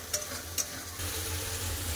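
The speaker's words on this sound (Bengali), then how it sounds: "খুব সুন্দর করে সব একসাথে আবার কষে নেবো" Chicken korma with cashew paste sautés in a pan, a steady soft sizzle with two quick scraping stirs near the start, close and quiet, with no voices.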